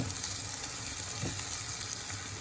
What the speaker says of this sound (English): I am giving it a mix.